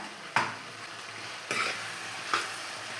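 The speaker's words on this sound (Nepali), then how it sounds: "टमाटरलाई पनि एकछिन भुट्नु होला" Tomatoes frying with garlic-ginger paste for a potato and soybean curry give a steady low sizzle, broken by three sharp spatula scrapes or clanks against the pan, with no talking.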